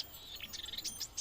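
Marsh warbler singing, a quick string of high, thin chirps and slurred whistles packed close together, fairly near and clear with no voices.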